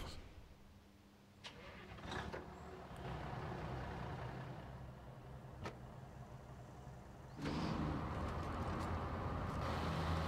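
A truck engine in the video game SnowRunner idles with a low steady rumble, then revs up louder near the end, with a few sharp clicks along the way.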